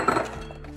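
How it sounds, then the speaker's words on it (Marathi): Chopped carrot and beetroot drop into a glass jar for a kanji probiotic drink, giving a quick, close clink and thunk against the glass that fades out within a second. "आता एक काचेची बरणी घ्यायची आणि त्याच्यामध्ये हे गाजर आणि बीट घालायचं।"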